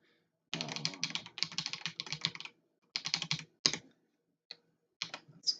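Bursts of typing on a computer keyboard during a game-programming session: rapid clusters of close key clicks, then a pause and a few isolated single taps, with no talk.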